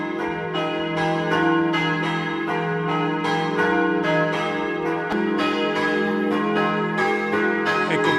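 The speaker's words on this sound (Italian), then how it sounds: "Ascoltiamo il suono delle campane" Church bells in the large bell tower at Torlano, Friuli, ring steadily, strikes overlapping in a rich, sustained peal with deep humming tones lingering between the clangs.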